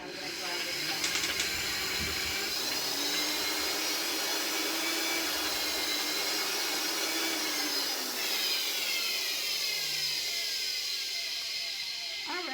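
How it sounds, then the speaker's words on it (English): Masala spices for milk ground in an electric grinder, a loud steady whine with hiss that shifts pitch as it runs, close and continuous. "I'm going to grind this down"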